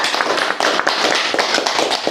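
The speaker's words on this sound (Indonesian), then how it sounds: "Tepuk tangan." A hall audience claps together in a dense, continuous patter of many hands, loud and close, with no voices over it.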